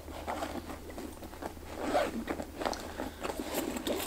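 The back zipper pocket of a Coach handbag being opened, giving a close, scratchy zip run with crackly fabric rustle and small clicks, no voices.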